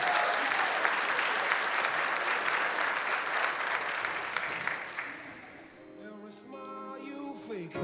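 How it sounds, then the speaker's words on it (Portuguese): An audience at a startup talk claps to welcome a speaker onto the stage, full dense applause fading over several seconds, followed by faint tonal sounds and quiet room noise. "Vamos recebê-lo com uma salva de palmas."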